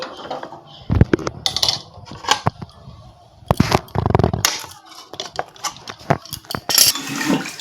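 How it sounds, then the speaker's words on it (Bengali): A metal kadai of kaun rice naru mixture is lifted off a gas stove, giving close, sharp clanks and scrapes of metal against the burner grate in several uneven bursts, with no talking. "এখন আমি কড়াটা গ্যাস থেকে নামিয়ে নিচ্ছি"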